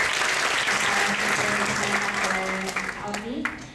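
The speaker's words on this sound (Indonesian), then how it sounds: "Tepuk tangannya teman-teman sekali lagi." Loud audience applause at a book discussion event in a campus auditorium in Jakarta, a thick continuous clatter of many hands, with a voice speaking over the clapping as it begins to thin toward the end.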